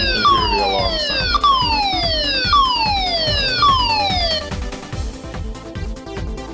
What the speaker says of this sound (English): you can hear the alarm sound.